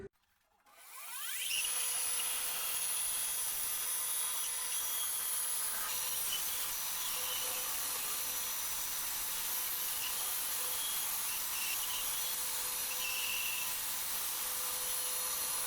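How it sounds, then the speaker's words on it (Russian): A machine saw runs steadily through wood, a continuous whirring buzz with a rasping edge that starts after a brief quiet moment and holds without a break. "Ну и сейчас на станок выпиливаю."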